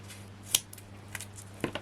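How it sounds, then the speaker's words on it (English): A few quick, crisp snips of scissors cutting paper, close and quiet, with short rustles between cuts. "There's my good scissors."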